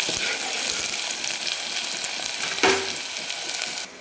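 A finely chopped large onion fries in hot oil for a spicy mutton rassa, making a steady, loud, close sizzling hiss with a short clatter partway through before the sound drops off.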